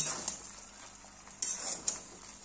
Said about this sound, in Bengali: একটু নাড়াচাড়া করে নেব ওই তেল, আলু আর পেঁয়াজের সাথে